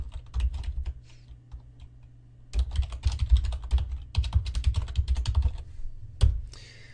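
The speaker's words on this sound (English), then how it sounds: "And hit the enter key so that it hyperlinks automatically." Fingers type on a computer keyboard in fast, close clattering bursts of clicks, with a pause of lighter tapping before a dense run of keystrokes and a final louder keypress.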